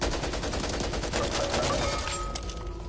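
An AK rifle in Back 4 Blood fires in fast automatic bursts, dense and close, then tapers off toward the end.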